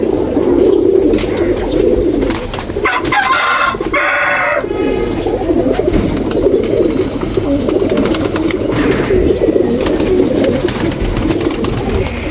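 Pet pigeons in a home pigeon house keep up a dense, continuous low cooing from several birds at once, loud and close, with a brief rustling burst partway through.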